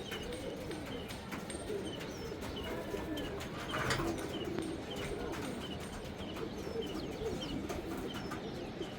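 Pigeons coo softly and continuously in a warm outdoor setting, the low murmuring calls layered under a steady background hum with occasional faint chirps and knocks.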